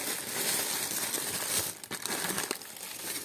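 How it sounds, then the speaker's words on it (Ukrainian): Plastic packet crinkling as it is pulled out during unpacking of a parcel of vintage jewelry; steady close rustling and crackling throughout, with a few sharper crinkles, no talk. "Дістати ще один пакетик."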